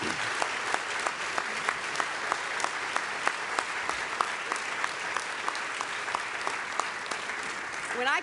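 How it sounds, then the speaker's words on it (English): Sustained audience applause at a formal State Department portrait unveiling ceremony, steady dense clapping filling the room for about eight seconds, moderately loud and even with no speech over it. "I want to give a round of applause to those who are the heart of our diplomacy and"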